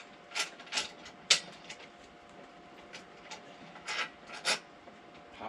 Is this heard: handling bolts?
yes